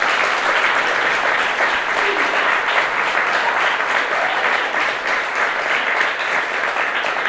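Sustained audience applause at a corporate annual meeting, a steady dense wash of many hands clapping, loud and close, lasting throughout without pause.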